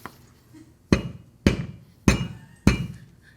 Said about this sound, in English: Would you recommend I crack it with a hammer?